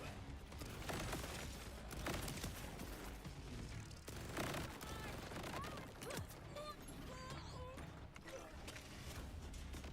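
Continuous gunfire from the Borderlands video game, dense overlapping shots and bursts filling the scene at steady loudness, with game effects layered in and no voice on top.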